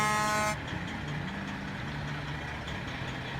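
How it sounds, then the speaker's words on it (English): A truck in the video game SnowRunner idles with a low, rumbling engine while its horn blares loudly at the start, then cuts off, leaving the steady engine drone with faint shifting tones. "can you hear the truck and everything now?"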